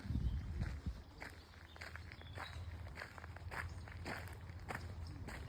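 Footsteps walk steadily downhill toward the sea, crunching close and regular over a low outdoor background for several seconds.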